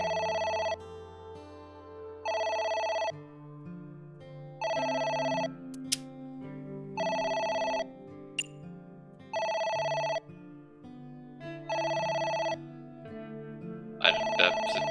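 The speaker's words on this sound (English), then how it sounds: "It's the phone. Maybe try picking it up?" A telephone rings in the video game AI: The Somnium Files, about six evenly spaced electronic ring bursts, loud and clear over quiet background music.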